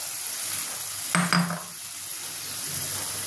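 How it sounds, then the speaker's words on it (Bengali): Spice masala fries in oil in a pan for paneer masala, giving a steady close sizzling hiss, briefly broken by a couple of metallic clinks from a utensil against the pan. "এবার আমি মশলার এই ইয়েটা দিয়ে দেবো। আমি দিয়ে দিলাম, এটাকে ভালো করে কষবো।"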